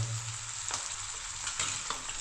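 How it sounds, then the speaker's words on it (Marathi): Spices crackle and sizzle in hot oil as tempering for dal, a steady bright hiss with a few sharp pops, close and continuous with no talking. "आता इथं फोडणी द्यायची डाळीला"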